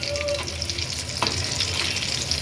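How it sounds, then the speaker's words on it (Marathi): Prawn lollipops deep-fry in hot oil, producing a dense, even bubbling sizzle heard up close, broken by a single soft knock near the middle, with nobody talking. "अशाच पद्धतीने उरलेले लॉलीपॉप पण मी फ्राय करून घेणार आहे"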